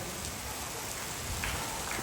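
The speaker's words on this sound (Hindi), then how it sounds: "ले जा कैसी बारिश आई है।" Steady rain pours down outdoors in a continuous hiss with scattered drop impacts, filling the whole stretch without talk.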